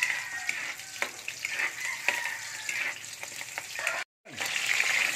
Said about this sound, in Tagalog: maggigisa naman ng onions